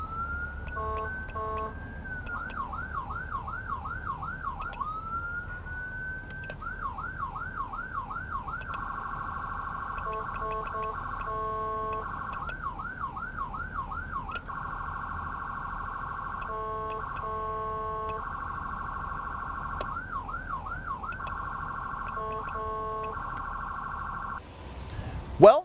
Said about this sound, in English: Momentary buttons for siren tones, and tone 1, tone 2, tone 3 for continuous tones.